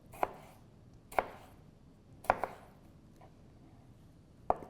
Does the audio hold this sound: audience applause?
no